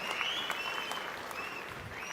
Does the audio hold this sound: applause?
yes